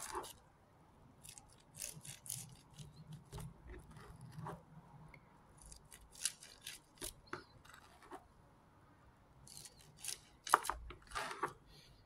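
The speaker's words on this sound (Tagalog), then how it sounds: "Hiwain pa natin. Hiwain. Gilid sa gilid." Knife cutting through a homemade sushi roll, a series of short crisp slicing and rubbing strokes in bursts, close and fairly quiet with pauses between cuts.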